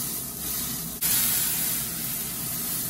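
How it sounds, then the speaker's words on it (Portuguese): A hamburger patty sizzles hard in a frying pan, a loud, steady hiss that swells sharply about a second in and then holds, with no talking. "Deixa ele tostar bem, não fica virando."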